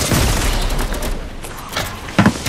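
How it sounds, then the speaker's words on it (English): Dense, roaring blasts rumble through a Fortnite-style match at Tilted Towers, with grenade explosions and chaotic battle noise filling the scene and a sharper thump near the end. "Oh, he's throwing grenades"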